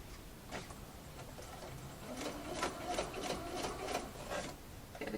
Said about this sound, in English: Take my pins out as I sew, make sure it's in the crease of the actual bias binding.